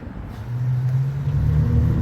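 Cars heading toward an intersection on surveillance footage, a steady engine drone that builds louder as a vehicle draws nearer and passes close.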